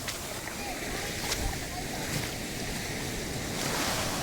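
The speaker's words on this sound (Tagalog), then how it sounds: "Ang laki na, pa-high tide na mga guys. Kaya malalaki na yung alon." Ocean waves surging at high tide along a rocky shore in Quezon Province, a steady broadband wash of surf with wind buffeting the microphone throughout, close and continuous with no voices.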